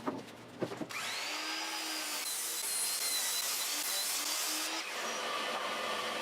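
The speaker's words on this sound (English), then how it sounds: "cut them all down to a more manageable size over at the miter saw" Miter saw cutting long wooden boards down to size: a motor spins up after a few knocks, then a sustained whining cut runs several seconds, close and loud, dipping briefly near the end.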